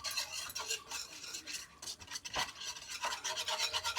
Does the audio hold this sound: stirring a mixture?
yes